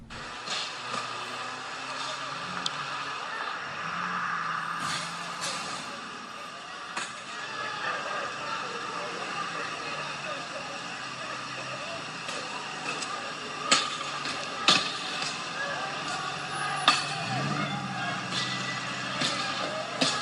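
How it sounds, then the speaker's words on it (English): Courtroom playback of street unrest, with people kicking and striking cars using pipes and bats, heard as scattered sharp metallic bangs, several louder hits near the end, over a continuous noisy background with faint voices. "that's people kicking and hitting cars with pipes and bats"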